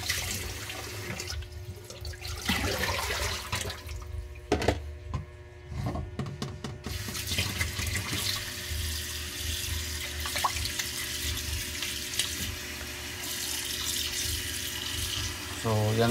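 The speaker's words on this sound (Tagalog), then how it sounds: "Lagyan lang natin ng konting katamtama na tubig." Tap water runs steadily into a cooking pot destined for a pressure cooker, a continuous splashing gush with a few clinks of the pot, close and fairly loud.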